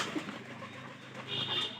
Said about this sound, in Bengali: এই কবুতর কিন্তু নিচে নিচে আসছে।